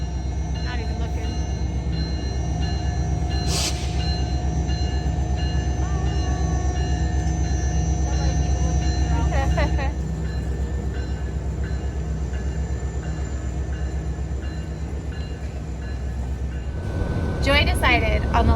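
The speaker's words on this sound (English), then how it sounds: "We're all just waiting for the train to go." A train rumbles past steadily on a railway near Fairbanks, Alaska, with a low, constant drone, occasional metallic squeals and clanks, and voices chatting nearby.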